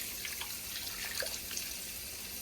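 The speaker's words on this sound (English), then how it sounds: "And then you pour your chicken stock in before you put the roast in the pan." Chicken stock trickles into a pan for a pot roast, a soft, faint liquid splashing and dripping that lasts a couple of seconds with no talk.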